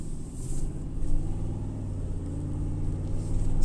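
A 2005 Nissan Armada LE with a 5.6L engine, suspected of a P0308 misfire, accelerating: a steady low engine rumble that rises slightly in intensity, heard from inside the vehicle with no talking.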